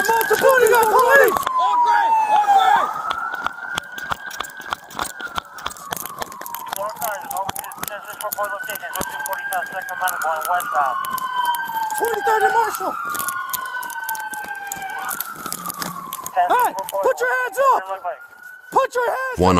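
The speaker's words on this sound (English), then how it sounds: "They scatter only when they hear a police siren from a patrol car responding to the request for backup." A Chicago patrol car siren wails as it responds to a call for backup, a loud rising and falling tone cycling steadily for many seconds, with shouting voices and crackling street noise around it.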